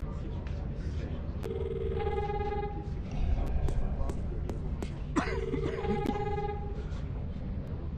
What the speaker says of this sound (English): there's a phone call for you